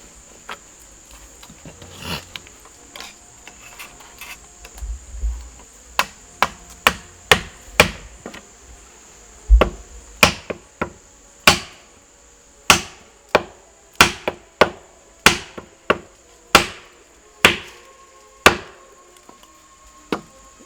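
Sharp wooden knocks ring out as bamboo pegs are hammered into a tree trunk during a climb, sparse at first and then a steady run of close, evenly spaced strikes over a constant high insect drone.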